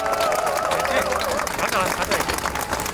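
Crowd at a Korean Democratic Party political rally claps in a dense, sustained round of applause, with faint background murmur and a tonal sound running beneath the clapping.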